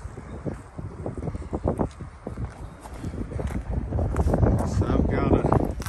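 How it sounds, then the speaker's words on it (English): Gusty outdoor wind buffeting the microphone as a low rumbling roar that rises and falls, near and fairly loud, with a few faint knocks and rustles during work on an OBS Ford F-150. "Stupid wind."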